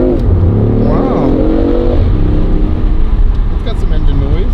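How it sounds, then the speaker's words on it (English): A BMW i8 in sports mode revs its engine, the pitch climbing and falling in a few close, loud surges while people talk excitedly over it. "I want to know how to make that i8 sound really loud."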